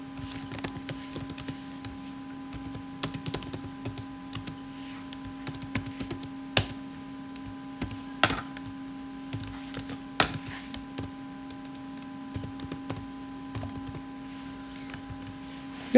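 Someone types an SQL query on a computer keyboard, a close run of light, irregular key clicks over a steady electrical hum, with no voices.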